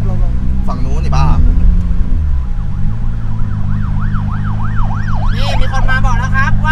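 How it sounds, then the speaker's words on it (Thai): An ambulance siren wails with a rising and falling tone through a street's traffic noise, loud and close for a few seconds. People talk over it and a car engine rumbles beneath. "เฮ้ยรถพยาบาลมาเว้ยรถพยาบาลมาเว้ย"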